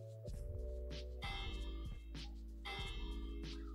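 A bell in the Minecraft video game rings in a repeated rhythmic series of clear metallic strikes over a low steady hum, faint and with no talk.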